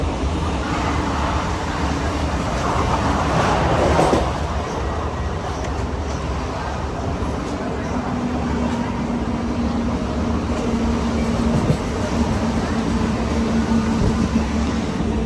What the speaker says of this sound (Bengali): আমাদের ট্রেন এখন ঢুকছে নৈহাটি জংশন রেল স্টেশনে